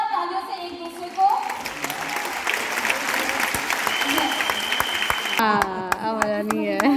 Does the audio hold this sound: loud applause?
yes